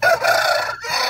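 A rooster crows loudly and close by in one long, strained call that breaks briefly near the end, with no talk over it.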